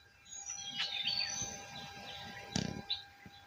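Birds chirp and call in the open outdoors of Wayanad, with several bright, scattered tweets over a quiet natural background. One sharper, louder burst of calls comes near the end.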